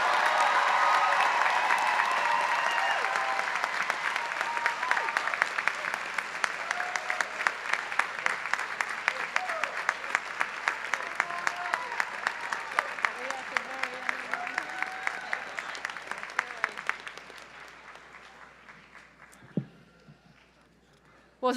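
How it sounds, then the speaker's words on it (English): Long round of audience applause at a 2017 graduation ceremony, dense clapping with sharper individual claps standing out, gradually thinning and fading out near the end, followed by a couple of isolated knocks. "Everyone, one round of applause for the class of 2017."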